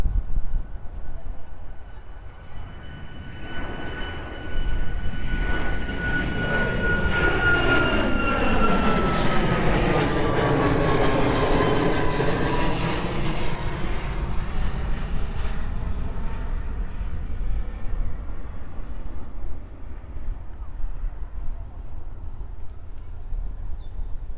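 All-white Atlas Air Boeing 747-8 jet at Miami International Airport, a loud sustained engine roar that swells and sweeps past as it departs, then fades into steady rumble.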